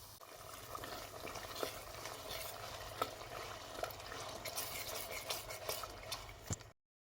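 Tomato paste with a bay leaf cooks in a pan over medium heat, giving a soft, steady low sizzle broken by scattered scraping and clicking stirs, fairly quiet and with no voices, until it stops abruptly near the end.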